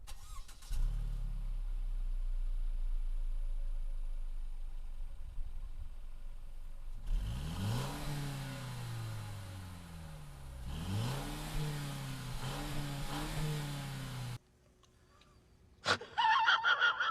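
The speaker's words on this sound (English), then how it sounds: "produces, let's just say, not the most thrilling exhaust sound." Exhaust of a 2017 Mercedes C-Class Coupe, heard first as a steady idle and then through two rising-and-falling revs and a cluster of quick blips before cutting off, fairly close.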